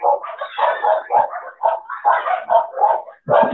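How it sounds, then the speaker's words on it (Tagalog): A dog barks and yips repeatedly in quick bursts, close and loud, with short pauses between the barks. "Ingay ng aso"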